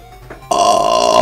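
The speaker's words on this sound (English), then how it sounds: "Oh boy, I just burped and that was amazing." A person burps loudly and close to the mic during a playthrough of 8-bit Sonic the Hedgehog. A short quiet stretch comes first, then one long, sustained belch that fills the second half, with no talking.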